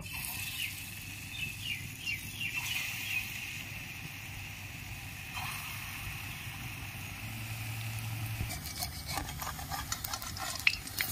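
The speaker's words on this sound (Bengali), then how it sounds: "কড়াইয়ের তেল গরম হয়ে গেছে, বড়াগুলো আমি ভেজে নেব ছোট ছোট করে।" Small lentil fritters fry in hot oil in a wok, giving a steady, faint sizzle that runs continuously for several seconds with a few light clicks and no talking.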